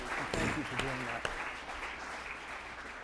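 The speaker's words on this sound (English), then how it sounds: "could we all give President Chodosh a great round of applause for that?" An indoor audience at a civility award roundtable gives a short burst of applause, dense clapping that starts loud and tapers away over a few seconds, with a brief voice over the start.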